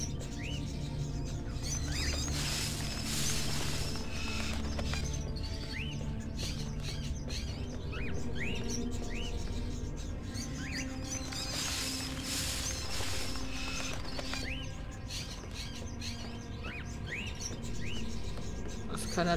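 Birds tweeting in the game Fahrenheit, a run of quick high chirps repeating throughout over a hum of ambience and faint mechanical clatter, soft and steady, without speech.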